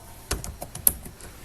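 Typing on a computer keyboard with a faulty key: a handful of sharp, uneven keystrokes tapped close by, one louder clack among them, with no talking.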